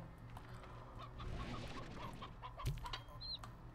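Chicken clucking in the video game Slime Rancher, a few soft clucks spread over a steady ambient game background, at moderate distance with no talk.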